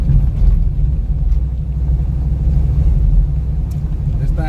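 A race car at Xtreme Raceway Park during Friday night racing holds a loud, steady, deep engine rumble that drones on without a break for the whole stretch.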